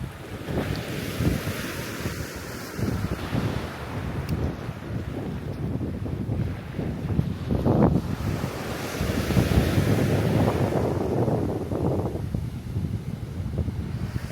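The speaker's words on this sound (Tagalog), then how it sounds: "Habagat season na kaya maalon." Surf rolls onto an empty beach in strong habagat monsoon wind, a continuous loud wash of breaking waves mixed with heavy wind buffeting the microphone, swelling louder toward the end.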